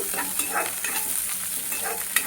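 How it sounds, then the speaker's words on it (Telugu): Crushed garlic frying in hot tempering oil for a fenugreek leaf dish, a close, steady sizzle with soft scraping stirs and a couple of sharp pops. "ఈ తాలింపు కొంచెం వేడయ్యాక అందులో 4-5 తెల్లుల్లిపాయలు దంచి పెట్టుకొని వేసుకున్నాను"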